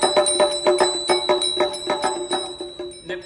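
A compact jhalar machine strikes its bell in a quick, steady ringing rhythm of bright, sustained metallic tones, close and clear with no voices.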